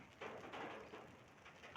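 Rain falling on a rainy day, a soft, steady hiss of drops with a slight rise in intensity partway through, faint and fairly distant.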